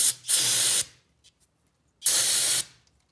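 Brake cleaner sprays in two short, loud hissing bursts onto Honda oil pump parts, each lasting under a second with a brief pause between them.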